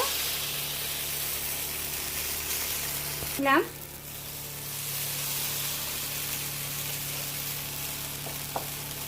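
A ladleful of wheat-flour batter hits a hot pan with a steady, close sizzle and a short scraping swish as it is poured, and the hiss carries on evenly afterwards.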